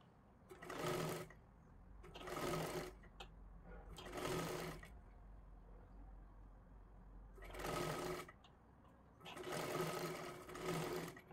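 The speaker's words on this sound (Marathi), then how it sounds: "सर्वात आधी अशी शिलाई मारून घ्या." A sewing machine stitches a piping strip onto a 38-size blouse with four tucks, running in five short bursts of rapid, even stitching separated by quiet pauses, close and clear.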